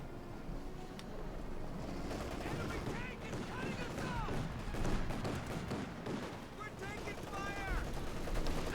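Machine gun fire rattles in sustained bursts amid battlefield chaos in Company of Heroes 2, an OKW versus USF match with Sherman tanks, continuous and dense with a voice talking over it.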